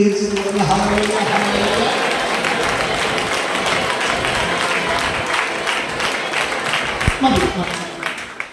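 A church congregation applauding together in a hall, producing a dense, steady roar of clapping that holds for several seconds and slowly fades, with a few louder claps near the end.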